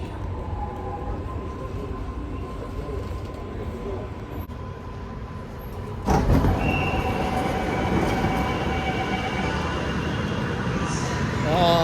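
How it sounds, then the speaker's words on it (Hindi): A metro train pulls into a station in South India with a steady low rumble and a rising squeal. The sound jumps louder partway through as the train comes close, and faint voices carry underneath. "मेट्रो आ चुकी है, लेट्स गो।"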